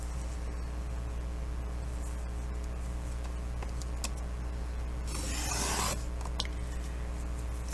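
A paper cutter trimming a stack of book pages makes one brief, sharp slicing rasp over a quiet background hum, with faint taps and handling noises before and after.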